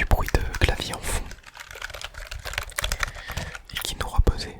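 A computer keyboard clatters in quick, irregular bursts of close clicking keystrokes, with soft whispering in between.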